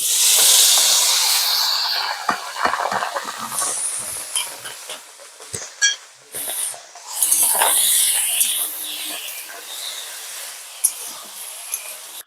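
Cooked rice lands in a hot pan for fried rice, setting off a loud, bright hiss that fades and flares again as it is tossed, with intermittent clatter of utensils.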